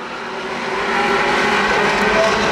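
Super late model race cars roar around Baer Field Speedway during a Gold Cup 100 restart, a loud, steady engine drone with no break, building slightly as the pack gets back up to speed.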